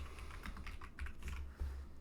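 Fingers typing on a computer keyboard while a password is entered during a Debian Linux install, a quiet, close run of quick irregular key clicks with no voice.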